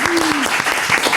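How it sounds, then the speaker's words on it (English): A short burst of clapping from podcast hosts and a small live audience, dense and steady over a brief moment, with a faint voice sliding through near the start. "Should we do a little round of applause?"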